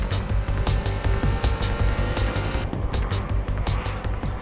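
A 1996 Honda Civic Type R accelerates hard, its engine a loud, steady roar that holds throughout with a brief shift in tone partway through.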